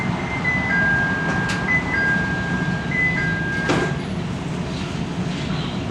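Steady rumble of a Chicago CTA Blue Line subway train running from Addison toward O'Hare, a continuous low roar with a faint tonal whine and a brief screech partway through, no voices.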